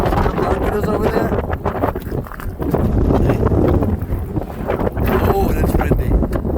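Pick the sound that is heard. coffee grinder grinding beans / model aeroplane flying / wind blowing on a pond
wind blowing on a pond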